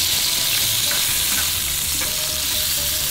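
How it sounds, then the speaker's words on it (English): Beef sizzles and fries loudly in a hot pan for jjapaguri, a dense continuous hiss with faint stirring scrapes, close and without talk. "I think it's hot enough to put in the beef, I hope."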